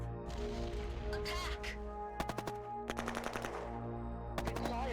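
Machine-gun fire in a Shadow Empire strategy battle rattles in several short rapid bursts over a steady humming game soundtrack, with brief electronic tones between volleys.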